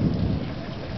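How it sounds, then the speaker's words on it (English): Thunder rumbles loud and close during a rainstorm at Orient Point, a deep booming roll over steady rain that fades slightly toward the end. "here comes the Thunder Boomers."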